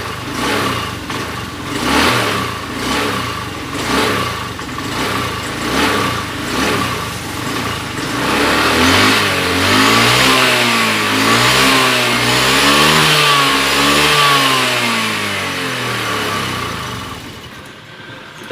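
A Honda Beat FI scooter engine starts and revs hard, the throttle blipped repeatedly before rising into a sustained, wavering high rev that falls away near the end, loud and close.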